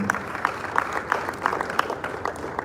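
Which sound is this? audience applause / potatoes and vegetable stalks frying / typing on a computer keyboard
audience applause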